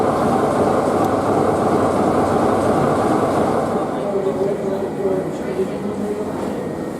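Diesel locomotive 44008, a Peak Rail engine fresh from heavy overhaul, works a train at a Norfolk gala, giving a loud, continuous rumbling roar that holds steady and eases slightly toward the end.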